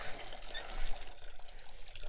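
Water pours from a hot water hose bib on the outside wall of a house, a continuous faint splashing rush held steady for about two seconds with no talking.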